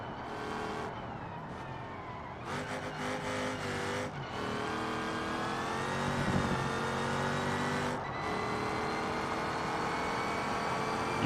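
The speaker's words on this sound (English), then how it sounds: "I love the sound of transmission whine in race cars." Race car in the driving game BeamNG, its engine droning steadily with a high transmission whine that climbs and shifts through gears, loud and continuous, with brief breaks between gear changes.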